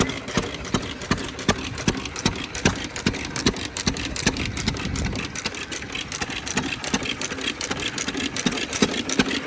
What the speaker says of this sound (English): Really nice engine.